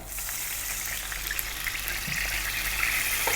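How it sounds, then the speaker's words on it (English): Vinegar hits a hot frying pan still coated in oil left from frying fish, giving a steady, broad sizzle that holds at an even loudness throughout with no talking. "We're gonna go 3 tablespoons of vinegar"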